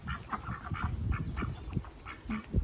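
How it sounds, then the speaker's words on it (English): Pet ducks quack and honk in short, uneven bursts close by, several birds calling over one another in a busy, continuous chatter. "Oh, my babies. You're such good duckies."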